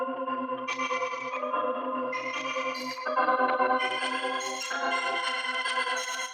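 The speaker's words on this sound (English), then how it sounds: "So what I did was I exported that, throw a halftime into reverb on it." Synth melody from a Space Signals grain-synthesis preset, exported and slowed with a halftime effect and heavy reverb in FL Studio, playing as sustained bright layered tones in shifting chords over a soft pulsing low note, alone and steady.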